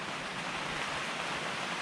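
Dense, even hiss of heavy rain in very windy weather, unbroken and fairly loud throughout the short stretch, with no talking.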